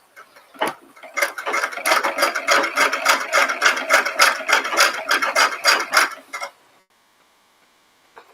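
A sewing machine stitches in a fast, regular run of close mechanical ticks and clatter for about five seconds, loud and near, then stops abruptly into near silence.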